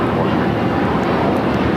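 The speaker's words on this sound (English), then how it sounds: "This is Air Tahiti Nui Flight 102 coming in from Papaete on the" Air Tahiti Nui Boeing 787-9 Dreamliner landing at LAX, a loud steady jet engine roar close by, with someone talking over it.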